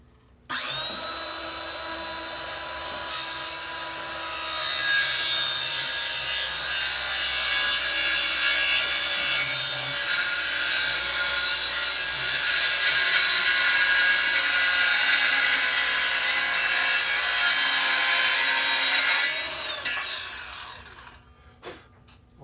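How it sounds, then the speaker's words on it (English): A Ryobi 18-volt 5-1/2 inch cordless circular saw cuts through 3/4 inch plywood: a loud, steady, high whine for about sixteen seconds that rises as the blade bites, then winds down. "Make a cut into 3/4 inch plyboard"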